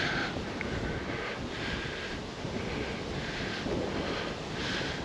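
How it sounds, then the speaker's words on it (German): Strong coastal wind gusting across the microphone by the sound near Altefähr on Rügen, a steady broadband rush with swelling gusts throughout, no voices. "ein ordentlicher Wind pfeift hier lang"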